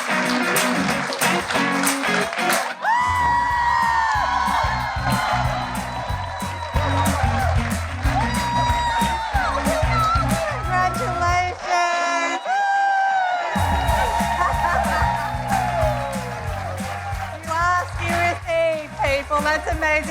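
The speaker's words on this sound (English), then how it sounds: "Give her a round of applause." A studio audience at a girlfriends' TV talk show claps and cheers loudly, with whoops and shouts layered over continuous applause and voices mixed in, briefly dropping off before surging again.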